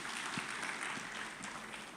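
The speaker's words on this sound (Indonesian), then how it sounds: "Kasih tepuk tangan bagi Tuhan Yesus" Church congregation at a worship service clapping hands in praise, a soft, distant, continuous patter of many hands without voices on top.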